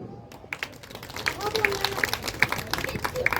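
Applause at an evening celebration of Dr. Bhimrao Ambedkar's birthday, a crowd clapping in scattered, quickening claps over voices and murmuring babble.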